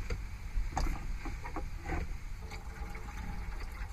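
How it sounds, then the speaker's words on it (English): Rinse water poured out of a container during camp cooking in a Walmart parking lot, a short splashing gush with uneven glugs and spatters, close and fairly soft. "I'm going to just pour this in here because we're done rinsing stuff."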